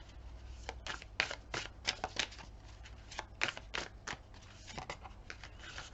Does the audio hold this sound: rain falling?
no